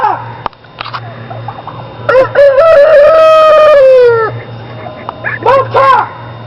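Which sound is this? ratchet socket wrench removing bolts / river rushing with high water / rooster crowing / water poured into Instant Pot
rooster crowing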